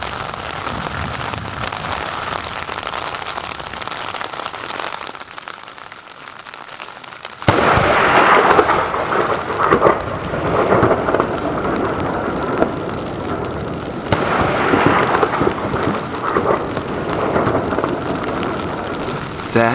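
Heavy rain pours steadily during a storm on Isle Royale, and a sudden loud thunderclap cracks midway before rolling on, with the downpour continuing under it and a second surge of rumble later.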